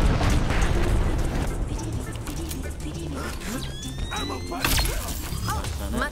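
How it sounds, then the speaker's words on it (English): Airstrike in a video game, with heavy booming blasts rumbling under steady game noise and a sharper burst near the end while players talk over it. "Airstrike on point."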